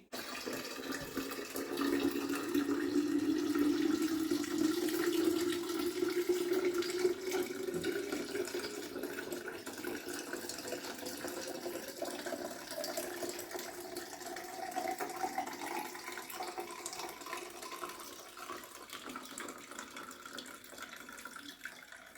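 Liquid poured through a mesh strainer in a home kitchen, a steady, close trickling and splashing that runs continuously for over twenty seconds and eases off slightly toward the end.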